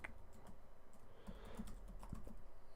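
Quiet typing on a computer keyboard while entering a name, a quick irregular patter of soft key clicks close by with a couple of slightly louder taps.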